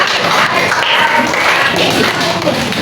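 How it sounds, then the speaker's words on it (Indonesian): Schoolchildren clap together in a classroom, a steady dense patter of many hands that fills about three seconds at close range with no speech over it. "Oke, tepuk tangan dulu kalian."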